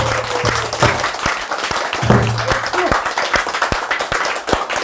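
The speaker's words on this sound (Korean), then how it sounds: "우리 명창님 환장하게 박수 좀." An audience applauds a master pansori singer after a performance of Jeokbyeokga, loud, dense clapping with some sharper individual claps and faint voices mixed in.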